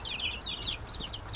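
Roosters scuffling in a village yard, with faint squawks and clucking calls rising in short bursts over low background noise, fairly distant.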